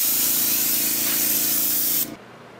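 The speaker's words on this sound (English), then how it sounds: "I'm going to give this one more coat of paint here, and then I'll go ahead and clean out the airbrush" An airbrush sprays paint onto a Revell Type 7C U-boat model in a steady, close, airy hiss that cuts off abruptly near the end, leaving a faint low hum.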